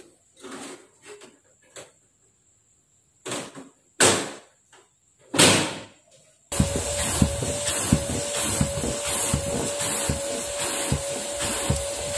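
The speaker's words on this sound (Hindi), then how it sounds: "अब स्टफ़ी के बेड को भी मैं एक बार वैक्यूम कर रही हूँ जिससे कि डस्ट और पेट हेयर दोनों निकल जाएंगे" A vacuum cleaner going over a pet bed during a bedroom deep clean at home. A few short knocks and shuffles come first, then the motor starts and runs loud and steady with a constant whine until the end.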